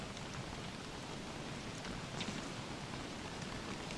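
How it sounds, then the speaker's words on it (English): Steady rain pours in the Don't Starve game world, a dense even hiss of falling drops that holds constant throughout, soft and continuous with no talk or other sounds over it. "Great timing, rain."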